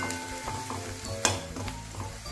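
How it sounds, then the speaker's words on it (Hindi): Chopped onion fries in a pan on medium heat, a steady close sizzle with occasional stirring scrapes and one sharp clink of a utensil, no voices over it. "मीडियम पावर पे हमें कांदा अच्छे से लाल भून लेना है।"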